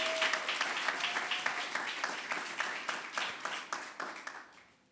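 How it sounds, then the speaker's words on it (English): Graduation ceremony audience claps in a scattered, moderately sized round of applause heard from a distance, with distinct individual claps that gradually thin out and fade. "Now, I would like us to give our staff a big round of applause."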